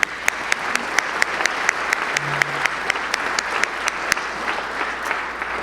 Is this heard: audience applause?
yes